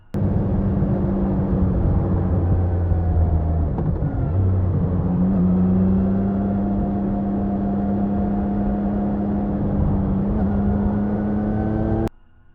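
A V-twin motorcycle engine idles and rumbles steadily with an uneven, loping throb, close and loud throughout before cutting off at the end.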